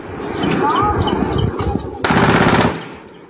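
Rapid automatic gunfire in a clash between the Pakistani army and TTP fighters, with loud dense bursts and a sharp volley near the end, mixed with other noise.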